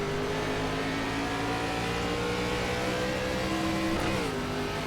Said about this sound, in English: We're getting ready to go green here for 85 laps in the old ARCA car here at Dover.